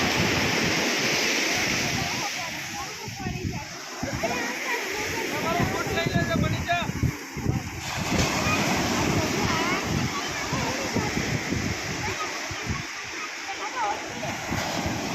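Sea waves wash in at Madhavpur beach with a continuous surging, splashing roar, while people talk and shout over the water throughout.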